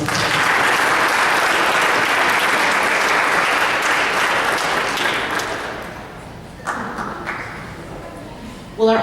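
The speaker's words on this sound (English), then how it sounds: "please let's offer them one more round of applause." An audience at a school board of education meeting gives a sustained round of applause, dense and loud, then thinning and fading out toward the end with a few scattered claps and brief voices.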